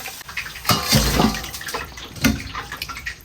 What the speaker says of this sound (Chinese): 炸得像这种半糊皮状，给它捞出来，用温水浸泡。